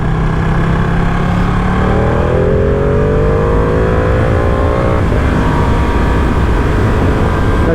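A Ducati Panigale V2 motorcycle engine pulls loudly under the rider, rising in pitch through the gears amid constant wind rush, steady and close throughout.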